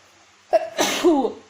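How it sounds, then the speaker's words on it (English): A single sneeze: a sharp intake of breath followed by a loud, explosive burst, close to the listener. "Excuse me, a sneeze coming up."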